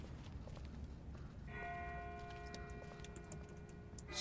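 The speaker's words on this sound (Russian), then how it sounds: "Это не тот же колокол, что и раньше. Это дальше." A distant bell rings in The Walking Dead video game, a faint sustained metallic tone with fading overtones emerging midway over low steady background noise.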